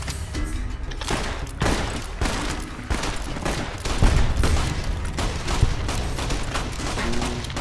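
Service rifle gunfire in Fallout: New Vegas during a ghost town gunfight, with loud rapid repeated shots in steady bursts over continuous background game noise throughout.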